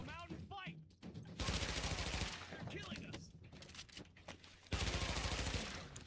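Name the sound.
gunfire from the video game The Division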